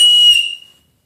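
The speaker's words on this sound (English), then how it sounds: "looks like some whistle. It's bright red with a yellow lanyard. Let's test this out." Bright red survival whistle on a yellow lanyard, blown once in a loud shrill blast of about a third of a second that then tails off quickly, heard alone and close.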